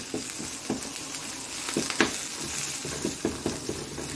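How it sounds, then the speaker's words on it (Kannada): Ingredients frying in a pan for chana palak give a low, continuous sizzle punctuated by irregular spatula taps and scrapes, close up with no voices. "ಇದರ ಸ್ವಲ್ಪ ಬಿಸಿಯಲ್ಲಿಯೇ ಇದು ಸ್ವಲ್ಪ ಫ್ರೈ ಆಗಬೇಕು"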